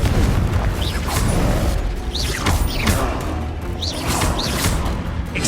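Confringo fire-blast spell explosions in Hogwarts Legacy burst repeatedly, several booming blasts with whooshing streaks spaced about a second apart over constant combat noise, loud and close.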